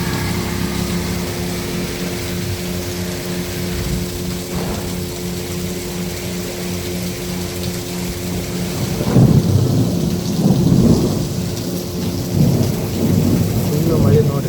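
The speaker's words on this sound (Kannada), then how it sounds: "ಫುಲ್ಲು ಮಳೆ ನೋಡ್ರಿ." Heavy monsoon rain in Kundapura, Karnataka, pouring as a steady hiss with low rumbling thunder that grows louder and rolls near the end, no voices over it.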